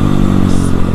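A Yamaha WR155R supermoto with an aftermarket exhaust revs loud and close, a rough, throbbing bark filling the whole moment with no other sounds.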